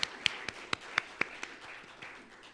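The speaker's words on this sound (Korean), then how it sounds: "하나님께 찬양과 영광의 박수를 올려드리겠습니다." A church congregation claps in praise during a Palm Sunday worship service, about ten sharp, evenly spaced claps in a steady rhythm that soften toward the end, with a faint room hum behind them.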